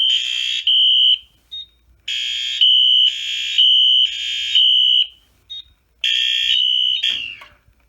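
A fire alarm panel sounds after a smoke detector trips, its loud, piercing electronic tone blaring in long bursts with brief gaps and short chirps between, close and alone without talk.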